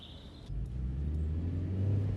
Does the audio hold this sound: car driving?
yes